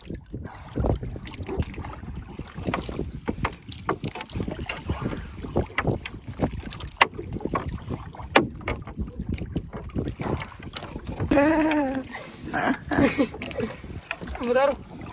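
A small boat's motor churns at sea off the Philippines during a fishing trip, rough and uneven under heavy wind buffeting the microphone, with a voice briefly heard near the end.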